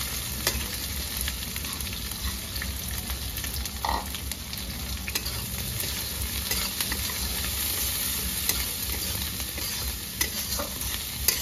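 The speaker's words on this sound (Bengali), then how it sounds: "দিয়ে দেবো কেটে রাখা পেঁয়াজ," Chopped onions fry in a very hot wok with cumin, cinnamon, cloves and green cardamom, giving a steady, close sizzle and hiss throughout with occasional stirring scrapes and no talking.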